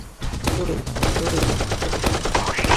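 Rapid bursts of automatic gunfire in a Roblox prison game crackle continuously and loudly, with repeated sharp shots stacking into a dense, machine-gun-like fusillade.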